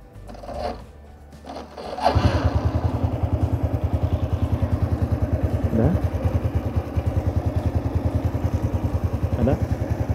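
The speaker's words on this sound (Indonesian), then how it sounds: "lalu kita hidupkan motor" A motorcycle engine cranks and catches after a quiet moment, then settles into a steady, fast, even idle that chugs on close by for the rest of the stretch, during an engine oil flow check.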